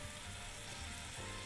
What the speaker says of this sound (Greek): Θέλεις να τα σοτάρεις σε δυνατή φωτιά, θέλεις να τα ανακατεύεις για να μην κάουνε